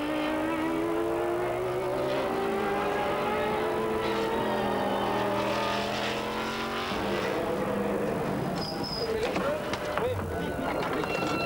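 A sports race car from the 1998 ISRS round at Brno roars past on the track, its engine note climbing and falling through gear changes, while a commentator talks over the sound.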